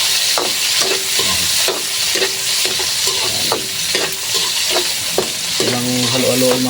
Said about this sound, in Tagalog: Gisa-gisay lang natin hanggang sa mag golden brown